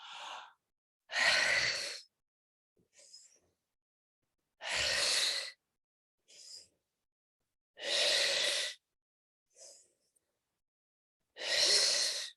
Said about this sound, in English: We're going to do 5 more. The deepest inhale.